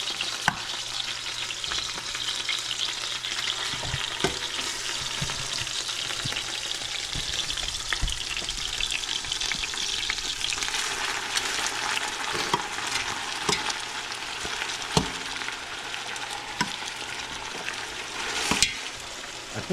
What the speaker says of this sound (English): Now we're gonna put all the meat in there